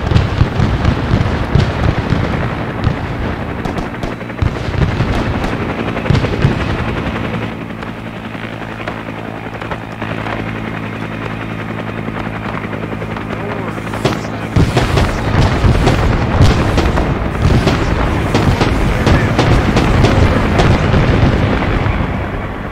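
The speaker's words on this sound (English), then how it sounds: "Are they just raining down artillery?" Artillery shells burst during a Vietnam-era Arma 3 multiplayer firefight, loud rapid explosions and crackling gunfire layered over a thumping helicopter drone, with voices talking through the barrage.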